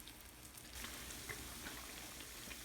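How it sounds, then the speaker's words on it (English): Drop donut batter sizzles and crackles in hot deep-frying oil, a quiet, steady bubbling hiss with small pops scattered throughout. "You can see there that started crackling and started frying right away as soon as it was dropped in there."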